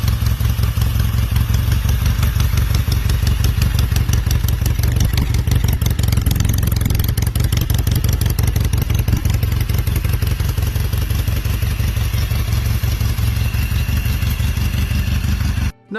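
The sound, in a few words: classic British Norton Commando motorcycle engine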